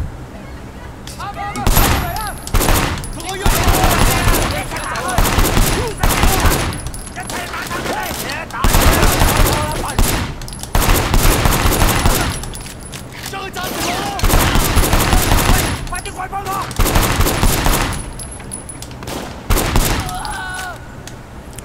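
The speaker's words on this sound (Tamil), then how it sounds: "துப்பாக்கி சூடு நடத்துறாங்களா?" Repeated loud bursts of gunfire from the video game Sleeping Dogs crack out in rapid clusters with short pauses between them, with someone speaking in between.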